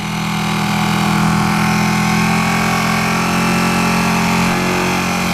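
A 2016 Ducati 959 Panigale motorcycle engine runs steadily at close range, with a strong low hum and a constant drone through the whole stretch and no speech.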